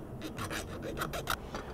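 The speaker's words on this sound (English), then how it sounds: "Just getting the big burrs off with a little hand file." A small hand file rasps burrs off a hardened drill chuck jaw during a Jacobs 6A-33 chuck rebuild, giving several quick close scraping strokes in an uneven rhythm, with no voices.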